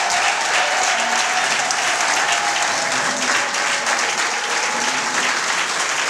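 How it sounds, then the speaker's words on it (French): A crowd at an International Women's Day ceremony in Lualaba province bursts into sustained, loud applause mixed with cheers and shouts. The noise is dense and continuous, with no gap. "J'invite donc toute l'assistance à saluer sa présence par des acclamations et des cris."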